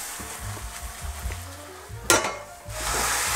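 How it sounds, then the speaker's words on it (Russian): Brisket sizzles in a dry pan with no oil, a low steady frying hiss that flares louder for a moment partway through, with no voices. "Нам необходимо вот эту грудинку поджарить до такого замечательного хрустящего состояния."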